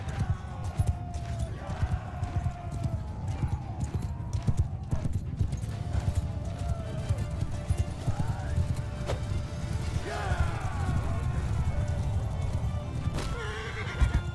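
Thudding hoofbeats of a galloping horse with whinnies over a dense, busy soundscape from the game Mount & Blade II: Bannerlord during a village raid.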